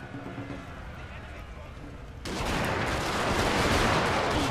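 Rifle volley fire in Shogun 2 Fall of the Samurai: a quiet battlefield rumble gives way abruptly to a loud, sustained crackle of massed gunfire, with a voice talking early on.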